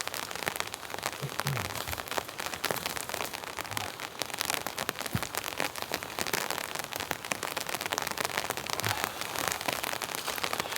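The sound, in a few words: rain falling on a tent while winter camping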